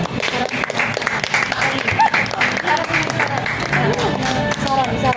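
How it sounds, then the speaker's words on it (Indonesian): A small group applauds the guests on a podcast. The clapping is fairly close and lively, and people talk over it. "tepuk tangan dulu dong"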